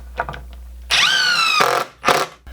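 A power drill whirs steadily into 2x4 wood for under a second, its pitch dropping as it bites while pre-drilling, followed by a brief second burst; faint clatter before.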